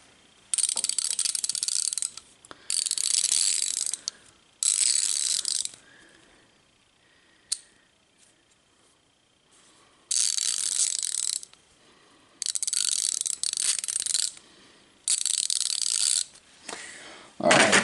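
A Craftsman ratchet clicks in several separate bursts of rapid, crisp pawl ticking, close and loud, with quiet pauses between each run.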